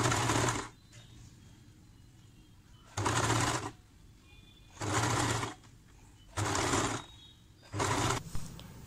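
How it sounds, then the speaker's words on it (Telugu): A sewing machine stitches piping cloth onto the neck of a nighty, running in five loud, even whirring bursts separated by quiet pauses. "ఇప్పుడు నెక్ కోసం మనం తీసుకున్న పైపింగ్ క్లాత్ని ఇలా రివర్స్ సైడ్లో పెట్టి ఒక స్టిచ్ వేసుకోవాలి."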